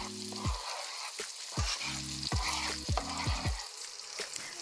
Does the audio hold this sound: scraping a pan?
yes